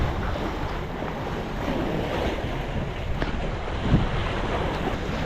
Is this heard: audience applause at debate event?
no